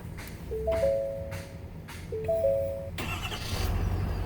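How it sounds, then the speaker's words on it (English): A 2017-2018 Ford Super Duty F250 pickup truck triggered by a plug-and-play remote start: a few short electronic lock chirps come first, then the engine cranks and catches near the end, settling into a low steady idle, with no talk over it. "The truck will start."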